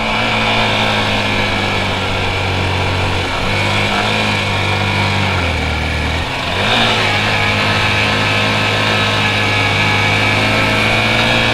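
A motorcycle engine labors up the steep mountain road to Keokradong in second gear, a loud, continuous close drone that dips briefly in pitch midway before pulling strongly again.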